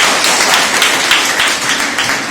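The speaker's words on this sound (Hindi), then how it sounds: "ताली बजाइए।" Audience applause filling a lecture or talk venue, a dense continuous patter of many hands clapping at steady loudness for the whole stretch.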